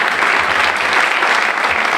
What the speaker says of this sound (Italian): Un applauso per Bardo.